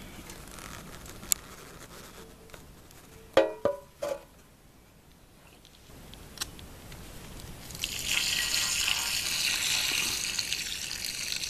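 Cold rinse water poured off washed stinging nettles: a few sharp drips and splashes, then a steady, close gush of water running out, with quiet pauses between.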